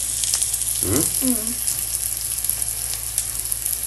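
Shallots and garlic fry in hot oil in a pan, a steady loud crackling sizzle throughout with a brief stir or scrape in the middle, no talking.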